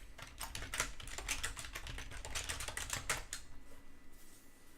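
Code is typed on a computer keyboard in quick, irregular bursts of crisp key clicks, fairly quiet and close, tapering off into near silence at the end.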